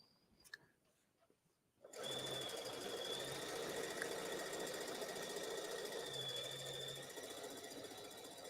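A sewing machine starts after a quiet moment and stitches continuously along a pressed fabric fold, a fast, even mechanical rattle close by that runs steadily to the end.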